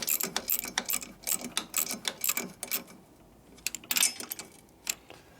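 Short Snap-on style ratchet clicking in bursts while being turned on a 1958 Harley-Davidson 74ci panhead top end, rapid sharp clicks in several runs with brief pauses, close and fairly faint, no talking.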